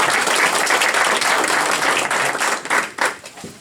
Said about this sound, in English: We can give you a big round of applause.